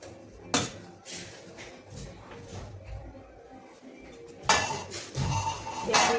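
Appe batter with onion, garlic, coriander and salt is mixed in a metal bowl, with a spoon clinking and scraping against the sides in quick, uneven bursts, loudest at the start and near the end.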